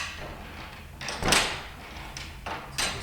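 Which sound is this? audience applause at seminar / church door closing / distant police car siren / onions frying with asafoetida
church door closing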